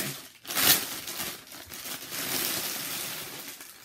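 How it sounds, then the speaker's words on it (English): A cheap plastic bag is crinkled and crushed by hand up close, with a sharp burst of crackling early on followed by softer, continuous rustling and scrunching. "Just a cheap plastic bag."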